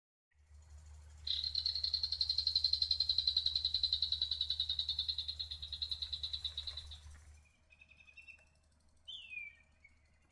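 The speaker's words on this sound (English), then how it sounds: "Another member of the kingfisher family found around Cairns is the forest kingfisher." A forest kingfisher near Cairns gives a fast, rapidly pulsed trill that holds steady for several seconds and then fades. Shorter chirps follow, all over a low background hum.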